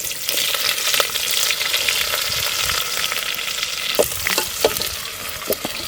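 Tomatoes and onions fry in a pan over a wood-fired chulha outdoors in a forest, cooking for a chicken feast. The sizzle is loud and steady, with a few sharp pops and stirring clinks toward the end, and nobody speaks.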